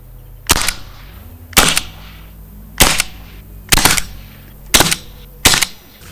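Six sharp, loud shots spaced about a second apart from a modified HDR 50 Tec9-style pistol firing steel balls at full power, with a low hum between the bursts.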